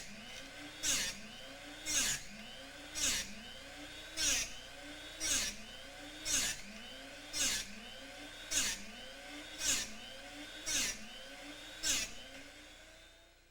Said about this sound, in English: Pay attention to the sound created as the large bit contacts the wheel.